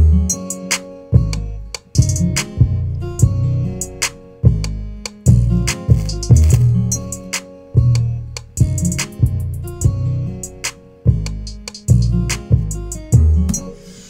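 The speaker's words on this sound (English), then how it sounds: "I put this little beat together that sounds like this" A hip-hop beat built in FL Studio plays with punchy kicks, crisp hi-hats and snares over a steady loop of bass and melody, loud and alone.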